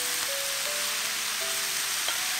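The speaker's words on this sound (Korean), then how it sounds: "채 썬 호박을 넣어줍니다. 소금 넣고 볶다가" Julienned zucchini sizzles and fries in a pan of mixed cooking oil and perilla oil with salt, a steady bright crackle throughout, with no talking.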